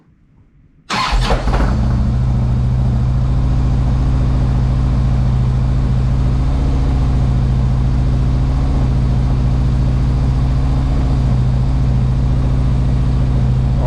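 A Harley Ultra motorcycle engine cranks and fires after a starter repair, then settles into a loud, steady, slightly high idle that runs without a break, heard up close.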